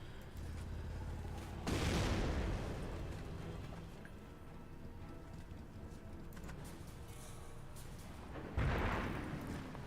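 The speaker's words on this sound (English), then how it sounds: "I hear some explosions in this general area" Explosions in a Company of Heroes 1 battle replay: two heavy booming bursts several seconds apart, each followed by a short rumbling tail, heard over a quiet, low in-game ambience with no talking.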